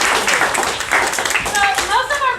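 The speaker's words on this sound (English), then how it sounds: "let's give her a round of applause" Audience applause after a talk at a wildlife rehabilitation presentation about birds of prey: a burst of hand clapping from a small crowd, close and fairly loud, with voices over it.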